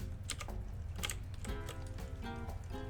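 Computer keyboard clicking in rapid irregular bursts, steady and fairly close, with a tonal background sound running underneath and no talking.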